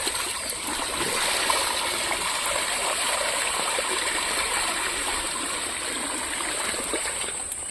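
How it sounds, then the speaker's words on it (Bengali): Steady rushing flow of rainwater pouring across a flooded road beside farmland after two days of rain, a constant close wash of water with no break and no voices. "দেখুন বন্ধুরা, রাস্তা পুরো খামারের উপর দিয়ে জল বইছে।"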